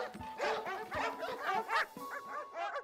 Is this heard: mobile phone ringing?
no